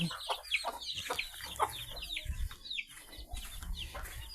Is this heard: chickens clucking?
yes